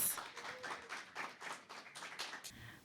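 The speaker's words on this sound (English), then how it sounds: "Round of applause." Audience applause welcoming a school team at a 2024 impromptu speaking competition semifinal, a steady patter of claps from a modest crowd that fades out after about two and a half seconds.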